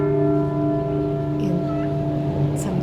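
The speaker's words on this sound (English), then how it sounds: "here he was pulling a different color rope, which rang a different bell" A church bell in the Mexican town of Dolores Hidalgo, rung by pulling a colored rope, sounds as a sustained, loud resonant tone that hums on steadily, with a few faint higher clinks over it.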